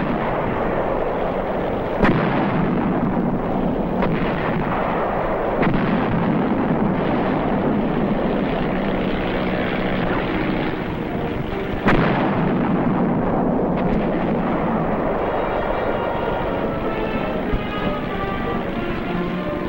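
A barrage from 155 mm guns on Hill 311 during the Korean War: a continuous, dense roar of heavy blasts with sharp, louder reports standing out every few seconds, loud and unbroken throughout.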